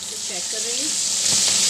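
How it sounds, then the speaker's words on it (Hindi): Chicken wings frying at medium heat give a dense, loud hiss of bubbling oil that swells slightly, with a brief voice murmuring underneath at the start. "मैं इसे तलूँगी एक एक करके।"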